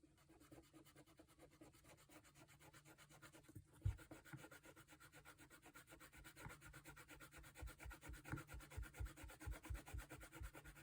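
An eraser rubbing and scraping across a comic book cover, steady close strokes that grow louder and more rhythmic toward the end, with one sharp knock partway through.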